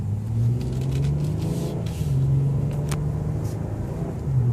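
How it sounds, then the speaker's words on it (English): A car engine rumbles and revs steadily, its pitch rising and falling as it accelerates, with no voices present. "The engine sounds pretty much like a big vehicle would sound."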